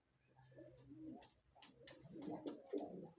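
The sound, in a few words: pigeons cooing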